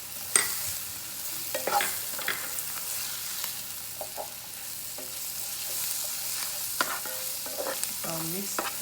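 Curry powder, paprika, cumin and parsley are stirred in a pan with a soft, quiet sizzle and intermittent clinks and scrapes of a utensil.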